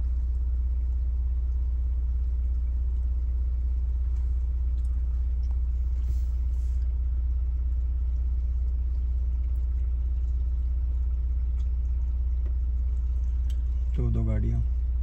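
A car labours to get moving on a mountain road between Solang Valley and Shinkula Top, its low engine rumble droning steadily throughout, with a brief louder burst near the end.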